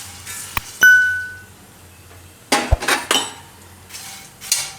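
Puffed grain (dhani) dry-roasting in a metal wok, stirred with a spoon: sharp metallic clinks and a ringing ping, then bursts of rattling, scraping grain, close and loud with no talk.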